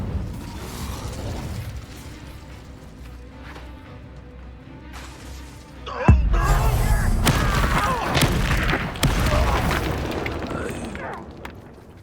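An Incendio fire spell in Hogwarts Legacy ignites with a sudden loud whooshing burst that follows quieter mechanical clicking, then sustains a crackling, roaring rush punctuated by a couple of sharp pops before fading.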